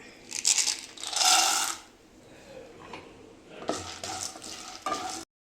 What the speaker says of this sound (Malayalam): നമുക്ക് അടുത്തതായിട്ട് കപ്പലണ്ടി ഇട്ട് കൊടുക്കാം